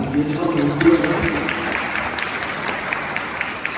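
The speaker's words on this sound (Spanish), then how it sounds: "Un aplauso para ustedes que vinieron acá" Audience applause at a children's and youth book event, a sustained crowd clapping that swells and holds, with someone speaking over it at the start.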